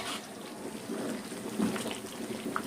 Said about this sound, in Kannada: ಇವಾಗ ಇದು ಚೆನ್ನಾಗಿ ಕುದೀತಾ ಇದೆ